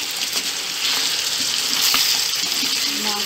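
Jaggery being stirred into pumpkin halwa in a pan, a steady close sizzle with soft scraping stir strokes running continuously throughout.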